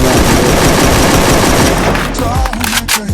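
Gunfire in the video game Free Fire: dense, loud, rapid automatic shots fill the first two seconds, then stop as a voice starts talking.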